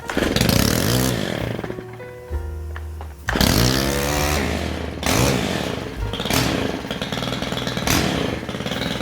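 STIHL string trimmer engine running without choke, loud and close, revving up and dropping back several times with buzzy two-stroke bursts between brief lulls near idle.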